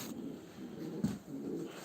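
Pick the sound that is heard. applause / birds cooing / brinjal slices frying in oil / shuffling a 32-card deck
birds cooing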